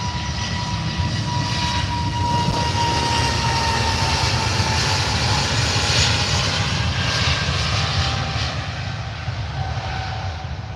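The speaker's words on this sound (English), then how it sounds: "we will capture the arrival of the Singapore" A Singapore Airlines Airbus A350 jet arriving at Manchester Airport, its engines a loud, steady roar with a broad rumble and whine that holds throughout and eases slightly near the end.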